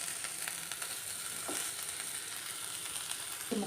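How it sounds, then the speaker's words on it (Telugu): Onion, tomato and coriander sizzle steadily in a hot pan while cooking a chickpea masala curry, with a continuous frying hiss and a few brief stirring scrapes, close and fairly loud with no talk. "ఆనియన్ సగం మగ్గిన తర్వాత ఒక టమాటా, కొద్దిగా కొత్తిమీర వేసుకొని ఒక 2 మినిట్స్ ఫ్రై చేయాలి"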